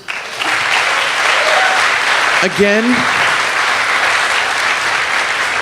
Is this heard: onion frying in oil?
no